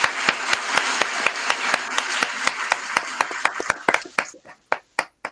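Hands clapping in a steady run of sharp, evenly spaced claps at a lively pace, loud and close, thinning to a few isolated claps near the end.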